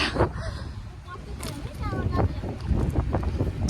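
Strong wind blows outdoors, making a continuous low buffeting rumble and roar against the microphone, with voices faintly heard through it.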